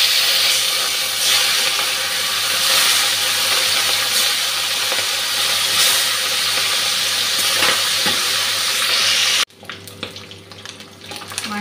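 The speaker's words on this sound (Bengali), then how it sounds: "তেল দিয়ে দিয়েছি কড়াইতে, তেলটা গরম হয়ে গেছে, নুন হলুদ মেখে এখন দিয়ে দিয়েছি মাছটা ভাজতে।" Salted, turmeric-rubbed katla fish frying in hot oil in a wok gives a loud, continuous close sizzle that drops away near the end.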